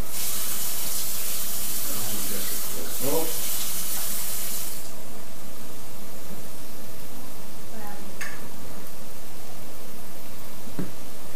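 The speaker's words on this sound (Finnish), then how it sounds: "Kylmää vettä. Aina kylmää vettä." Cold water running from a kitchen tap while meat sauce is being made, a steady broadband rush filling the first few seconds and then dropping away to a softer background with small clinks.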